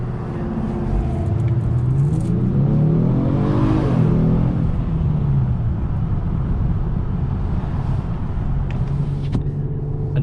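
A 2021 Genesis G70 3.3t with all-wheel drive accelerating hard from inside the cabin, engine pitch climbing steadily through a gear then settling into a loud, steady drone with road rumble.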